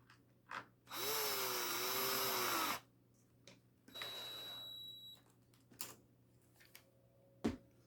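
A power tool drives fasteners while a bumper is refitted on a Traxxas X-Maxx RC truck, giving two short whirring bursts of about two and one seconds with small clicks and handling noises between them.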